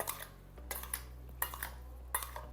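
A utensil stirs fruit salsa in a bowl, giving a few light clinks and scrapes against the dish at an uneven pace, quiet and close, with no talking.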